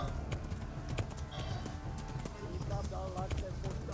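Horse hooves in the video game Kingdom Come: Deliverance, a steady clip-clop of a running horse under game music, with someone talking over it.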